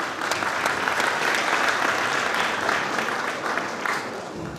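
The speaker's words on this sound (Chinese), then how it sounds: "好，来，掌声一下。" Sustained audience applause fills a charity pageant final's sportswear segment, a dense, even wash of many hands clapping at close range with no talk over it.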